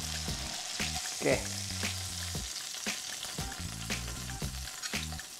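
Beef steak frying in a pan for a tom yum pasta dish, a steady broadband sizzle running throughout, with a brief louder flare near the start and a single short spoken word.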